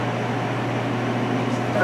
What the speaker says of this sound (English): And then I sit back with the dryer